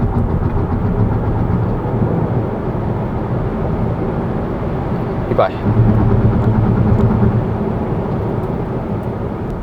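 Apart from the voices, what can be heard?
BYD Dolphin electric car accelerating hard, tires losing grip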